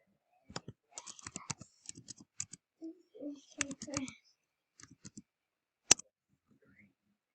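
Computer keyboard typing as answers are entered: sparse clusters of quick key clicks, close and fairly quiet, with brief speech-like sounds mixed among the clicks and a sharp isolated click near the end.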